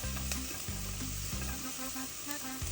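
Shallots sizzling in a hot pan while being stirred, a steady close crackle and hiss, with a low repeating hum pulsing underneath.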